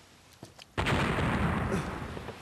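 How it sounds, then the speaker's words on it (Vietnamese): 105 mm artillery cannon fires near Cà Mau in a Vietnamese historical war drama, a single heavy boom that bursts in loudly after a few faint clicks and rolls on in a long, dense rumble. "Đúng là Đại Bác 105 ly."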